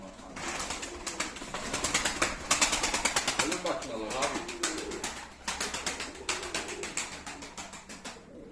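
Tumbler pigeons flap their wings in rapid clattering bursts, with soft cooing mixed in and people talking in the background.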